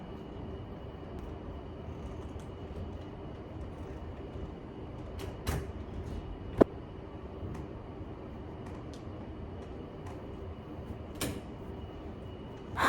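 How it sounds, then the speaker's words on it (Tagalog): A hotel room door is handled while someone tries to lock it, giving a few sharp clicks and knocks spaced through steady background hum with no talk. "I can't lock the door"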